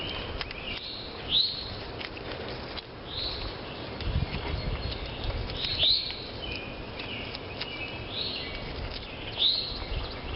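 Brief high chirps from birds repeat every few seconds in a quiet neighborhood in spring, standing out over a steady background hum and faint rustling.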